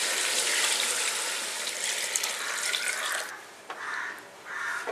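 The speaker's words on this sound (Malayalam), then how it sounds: "8 ഗ്ലാസ് വെള്ളം ഒഴിക്കാം" Water is poured into a pot of chicken for Arabic chicken majboos. It makes a steady, close rushing splash that breaks into shorter gushes toward the end, with a few faint calls in the background.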